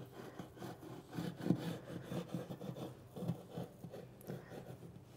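A knife trims the edge of a chocolate sleigh cake, giving soft, close rhythmic scraping and sawing strokes, quiet and steady with no talk.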